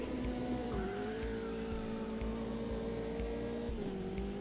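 McLaren GT3, BMW GT4 and Porsche GT4 race cars in a racing video game, engines droning steadily with shifting pitch and faint tire squeal, all at a low, constant level.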